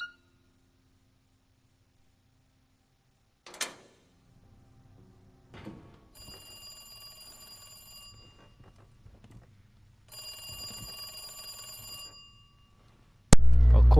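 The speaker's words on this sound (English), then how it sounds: "Of course the phone will ring." Telephone ringing in the Resident Evil 2 video game: two separate bursts of bright, harmonic ringing, each about two seconds long, with a short gap between them and quieter game sounds around them.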